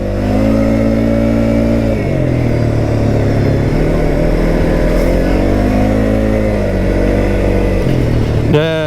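Kymco Maxxer 450i ATV engine revving while riding, a loud mid-pitched drone that rises and falls repeatedly with throttle changes over about nine seconds.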